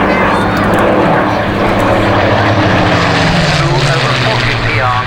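A Rolls-Royce-engined propeller aircraft roars past at a Battle of Britain open day at Biggin Hill, loud and close, with a falling engine drone as it passes.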